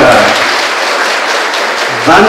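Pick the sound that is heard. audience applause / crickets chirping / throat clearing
audience applause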